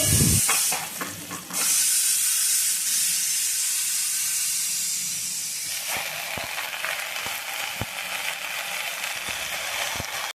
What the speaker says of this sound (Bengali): মশলাটা ভাজা ভাজা হয়ে গিয়েছে এখন দিয়ে দেবো এর মধ্যে কুচিয়ে রাখা পাট শাকগুলো